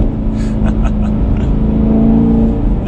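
A 2019 Chevrolet Camaro SS 1LE V8 rumbles loudly and steadily with deep exhaust drone, engine blips from rev matching rising over the sustained low growl throughout.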